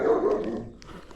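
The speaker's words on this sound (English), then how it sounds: "That one will bite that dog opposite." A dog barks on a street in South Africa, a few loud yaps in quick succession near at hand that fade into street noise, with no talk.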